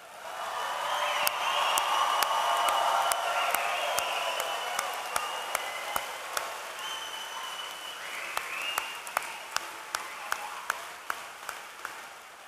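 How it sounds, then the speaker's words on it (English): Applause for graduates at a university spring commencement ceremony, a broad crowd of clapping that swells and then thins to scattered individual claps ringing out in a large hall. "let's give them a round of applause"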